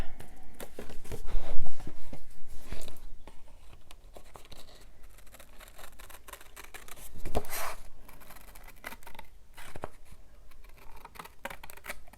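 Scissors cutting a printed paper tag for an autumn mini album, a string of small crisp snips and paper rustles close by, with brief pauses between cuts and no talking.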